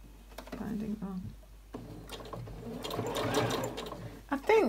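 A sewing machine stitches binding onto a fabric caddy in short bursts of rapid mechanical whirring, pausing briefly before running longer, close and moderately loud.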